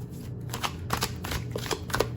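Oracle cards are shuffled by hand during a card reading, giving a steady run of soft riffling, papery swishes and flicks, close and fairly quiet, with no voices.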